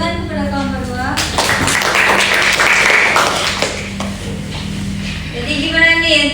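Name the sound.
classroom applause for a student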